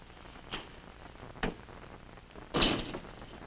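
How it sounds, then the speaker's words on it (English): An indoor door swings and is pulled shut in a 1951 instructional film scene: a few dull wooden knocks spaced apart, the loudest and longest thump coming last, with no voices. "Close the door."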